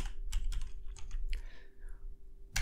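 Fingers type a terminal command on a computer keyboard in rapid, close clicking bursts with brief gaps, ending with a sharper keystroke.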